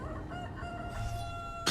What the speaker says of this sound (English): Fucking rooster, dude.